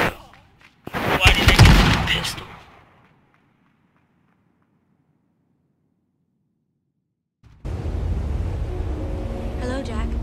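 Shotgun fire in the battle royale game H1Z1 gives a sharp, loud blast with a decaying tail, then silence, followed by noisy game sound with voices talking.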